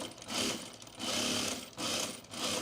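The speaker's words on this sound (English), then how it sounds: "We're gonna sew this right sides together." Close, steady whirring of a sewing machine joining cargo pants pieces right sides together with topstitching thread, in a few short runs separated by brief slowdowns.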